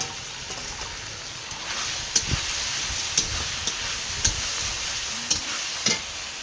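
Spice paste with chopped tomato and green chili frying in a pan for a Bengali village-style fish curry, a steady close sizzle broken by a few sharp scraping stirs of a spatula, with no talking.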